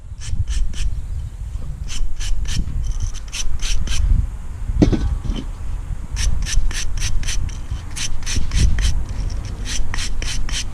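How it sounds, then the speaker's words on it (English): A piece of wood is sanded and smoothed by hand, with close, loud rhythmic rubbing strokes coming in quick repeated bursts and brief pauses between sets. "Just a matter of just smoothing off really and just sanding that down."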